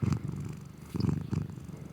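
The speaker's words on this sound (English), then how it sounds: "Something about a cat purring just makes me nervous." A cat purrs close and continuously, a low rolling rumble that swells and eases with each breath in a slow, even rhythm.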